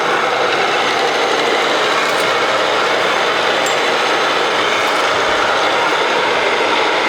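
An Oliver No. 81 automatic dual spindle boring machine runs at maximum feed, giving a loud, constant mechanical roar with faint periodic clicks.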